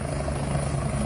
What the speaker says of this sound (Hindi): हल्द्वानी में राष्ट्रीय महामंत्री दुष्यंत गौतम और बीजेपी प्रदेश अध्यक्ष का हेलीकॉप्टर उड़ते समय हुआ अनियंत्रित